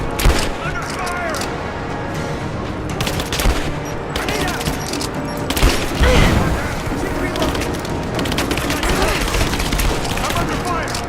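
Gunfire in the video game Rise of the Tomb Raider, loud dense bursts of rapid shots and booms mixed with mechanical clatter, with shouting voices over the barrage.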